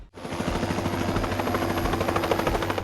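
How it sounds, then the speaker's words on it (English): A medical helicopter airlifting an injured person in the US flies nearby, its rotor thumping steadily with a loud, continuous whine throughout. "Bystanders recorded this video of a medical helicopter that was airlifting an injured person to a hospital in the US."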